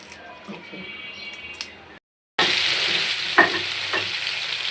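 Shrimp frying in hot oil with a little salt, a steady broadband sizzle with a brief break partway, then louder crackling and a few sharp spatters near the end.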